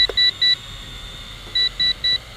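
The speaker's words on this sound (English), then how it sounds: "Beeping, letting me know that I'm in return to home" A WLtoys Q696-D camera drone entering return-to-home mode gives two pairs and a triple of short, sharp electronic beeps, fairly loud and evenly spaced, with a quiet gap in between.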